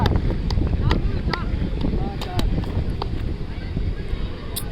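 Wind gusting steadily across an open cricket ground on a sunny day during a local tournament match, a continuous broadband rush with faint distant sounds mixed in.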